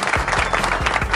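A canned clap effect plays from a V8 soundcard, a short loud burst of crowd-style applause with quick, dense handclaps.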